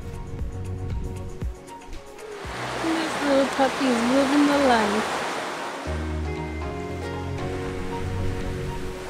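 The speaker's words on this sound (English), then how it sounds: "You can actually hear the waves." Waves wash steadily onto a beach in Moalboal, Cebu, Philippines, a soft broadband rush swelling and fading, while a person talks briefly over it.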